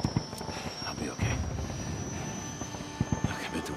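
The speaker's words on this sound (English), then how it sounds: "We gotta get on that chopper." A helicopter in the video game Days Gone drones steadily with a thudding rotor chop and engine whine, mixed with game sound effects and character voices over the noise.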